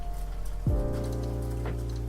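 Soft, steady rain patters in the background beneath a sustained musical tone that dips and bends, the rainfall faint and continuous throughout.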